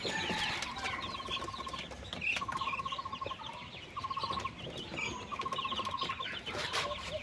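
Hens cluck and young chicks peep in a rural farm brooding shed, with repeated short trilling calls and steady background chatter from the flock, no voices.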